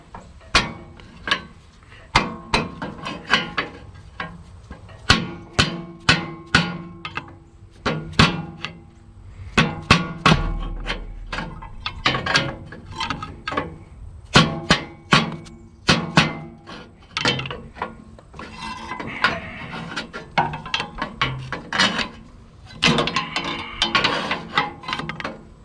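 Sharp metal-on-metal hammer blows strike the fan of a Caterpillar D3B bulldozer while it is being worked loose, loud and close, coming in irregular bursts with brief scraping between hits.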